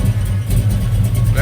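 A 1949 Chevrolet truck with a 454 big block engine runs with a deep, steady rumble and a slight rev, heard close by underneath people talking.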